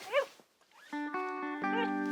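Mossy the dog lets out a short yip and whine, then a run of tonal, cartoonish barks and whimpers fills the rest, fairly close and steady, with no talking over it.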